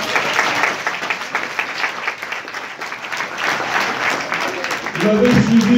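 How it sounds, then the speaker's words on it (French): A crowd at a political meeting breaks into steady applause that carries through the whole stretch, with a voice starting to speak over it near the end. "je vous demande aussi de l'applaudir"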